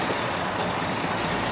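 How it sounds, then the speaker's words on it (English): Road traffic rumbles steadily in the background outdoors, a dense, continuous wash of passing vehicle noise with no pauses. "and of course there's lots of traffic noise in the background."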